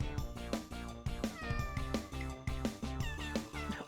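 A cartoon cat meows again and again in the video game Super Linguine Cat Simulator Deluxe Online, a string of bright, rising and falling mews over rhythmic game music.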